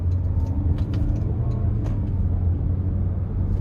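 A 2025 Toyota Corolla Cross XLE with a CVT drives along, a steady low engine and road rumble heard from inside the cabin, with no clear shift events standing out.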